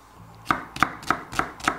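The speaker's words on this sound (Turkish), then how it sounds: "Soğanımı ortadan ikiye kesiyorum." A knife cuts an onion in half, chopping five times in a steady rhythm, each cut a crisp thud on the board, close and clear with no talking.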